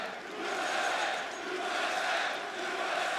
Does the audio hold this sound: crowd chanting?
yes